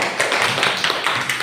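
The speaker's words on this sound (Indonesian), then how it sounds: "Ya, tepuk tangan." Students in a classroom clap their hands together in a brief, close burst of applause, a crisp patter of many overlapping claps.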